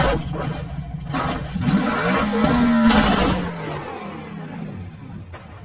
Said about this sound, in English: Rally car.